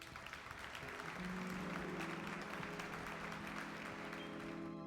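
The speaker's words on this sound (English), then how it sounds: "Your applause, please." Sustained applause from a crowd at a dolphin show in the video game Atomic Heart fills the space, steady clapping rising after a moment and continuing throughout, with a faint tonal effect underneath.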